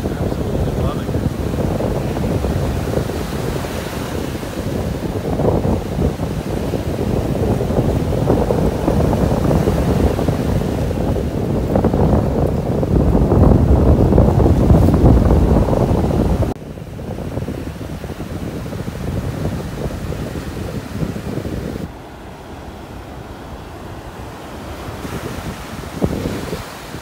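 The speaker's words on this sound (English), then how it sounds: "really just enjoying the sounds of the waves" Surf rolling onto a beach in North Naples, Florida, on a morning walk, a steady loud wash of breaking waves with wind buffeting the microphone, easing slightly in the last third.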